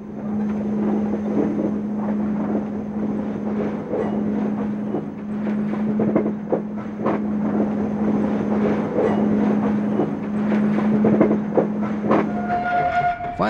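A special passenger train headed by two former Ulster and Delaware ten-wheeler steam locomotives, numbers 811 and 817, pulls into Kingston station. A steady rumble and clatter of rolling cars carry a sustained whistle-like tone, with a brief higher tone near the end.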